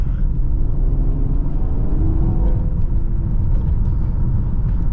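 Honda Accord V6 fitted with a Borla exhaust, cruising on the road with a steady low rumble and road noise, fairly quiet and even throughout with no hard acceleration.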